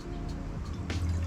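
Water poured into a Jetboil camping stove pot, a short close splash and trickle over a steady low background, with no voices.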